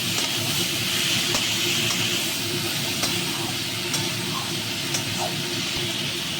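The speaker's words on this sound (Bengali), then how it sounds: "এবার শামুকগুলো এর সঙ্গে একসঙ্গে ভাজবে সব একসঙ্গে সুন্দর করে ভাজবে" Potatoes, onions and snails fry together in a pan, giving a steady loud sizzle and hiss with faint clinks of a utensil against the pan.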